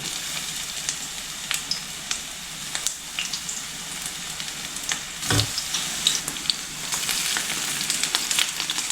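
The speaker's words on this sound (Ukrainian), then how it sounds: "Коли олія накалилася, викладаю баклажани в один шар і буду обсмажувати їх з усіх сторін." Eggplant slices fry in a single layer of hot oil, a steady close crackling sizzle with scattered sharp pops and spatters, including one louder snap partway through; no talking.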